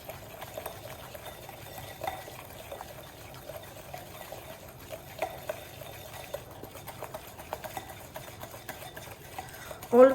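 Naan khatai batter is stirred steadily in one direction in a bowl, producing a soft, continuous scraping and swishing with faint periodic taps, quiet and close, without talk.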